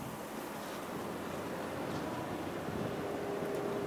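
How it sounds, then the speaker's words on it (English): Strong wind blows steadily during a heavy New England snowstorm with gusts near 40 mph, a continuous broadband roar that sounds like surf, loud and unbroken with no voices. "So it's still windy."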